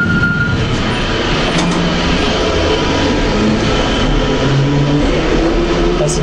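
A London Underground D-stock train passes at a station's eastbound platform as a loud, continuous rumbling roar with steady low drone throughout, close and unbroken, without speech.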